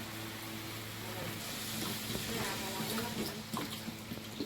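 Water is poured into a pan of frying meat while cooking, a steady hissing, sizzling wash close by, with faint voices in the background.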